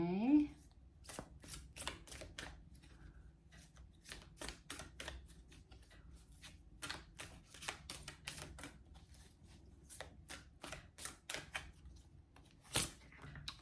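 Tarot cards being shuffled and pulled from a deck, a long run of crisp riffling clicks and snaps close up, with quiet talk underneath.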